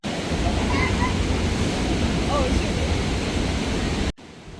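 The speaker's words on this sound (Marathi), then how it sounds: "वाव, असा एवढा आवाज येतोय वॉटरफॉलचा." Roaring waterfall pouring out through a cave near Banff, a loud, steady broadband rush of water that fills the space continuously before cutting off abruptly near the end.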